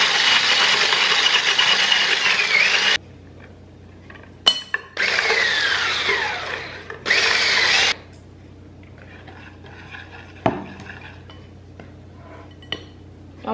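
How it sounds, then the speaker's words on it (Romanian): An electric mixer whirs while beating eggs with sugar until creamy, running in loud bursts broken by pauses. A few clinks of the bowl and utensils fill the quieter gaps. "Haideți că bat prima dată ouăle cu zahărul să devină un pic mai cremoase."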